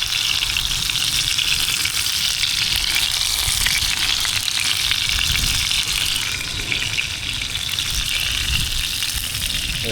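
Filet mignon steak sizzles and crackles loudly in a hot pan while being cooked on a small boat, a dense, steady frying hiss filling the whole stretch with no talking.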